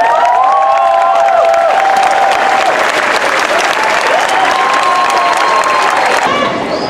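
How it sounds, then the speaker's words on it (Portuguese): A large outdoor rally crowd at Praça 7 in Belo Horizonte claps for a minute, loud sustained applause with cheering, shouts and whistles rising above it throughout. "a gente faça aqui na Praça 7 1 minuto de aplausos"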